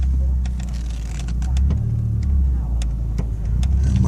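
A 1998 BMW E36 316i engine hums steadily at low pitch as the car pulls away slowly in first gear, with faint clicks and a voice speaking briefly over it.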